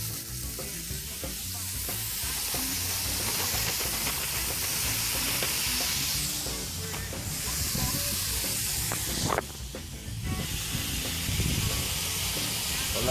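Onions, celery and green bell peppers hit a hot pot for Cajun boudin and sizzle loudly and steadily, a dense close hiss with stirring scrapes that swells briefly near the end.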